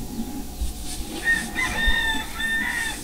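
A rooster crows near a chicken coop, several shrill crowing calls rising over a steady background hum, fairly close and clear.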